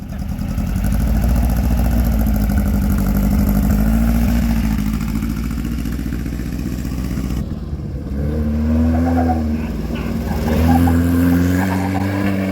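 A street-legal car built by a racing driver pulls away fast, its engine droning loudly and steadily, then rising again in pitch as it revs and accelerates, with no talk over it.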